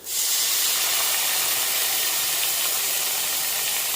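Chicken broth hits a hot cooking pan and sets off a loud, steady steam hiss that starts abruptly and holds constant, broadband and close, with no voices over it.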